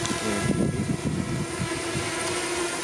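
A steady, close buzzing drone of spinning propellers with a constant hum underneath, continuous throughout and no one speaking.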